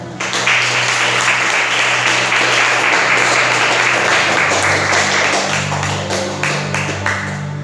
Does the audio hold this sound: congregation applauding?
yes